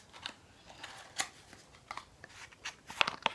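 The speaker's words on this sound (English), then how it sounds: "I had to rip the box." Cardboard packaging of a Christmas gift box is torn open at close range in a run of uneven rips and crinkles, with sharper snaps near the end and no speech.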